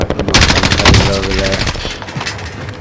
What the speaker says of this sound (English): I'm shooting that way too.